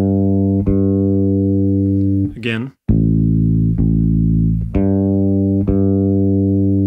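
Electric bass plucked notes with the fretting-hand ring finger muting strings, giving sustained low tones cut short by a brief gap, then more notes; a voice speaks briefly over the playing.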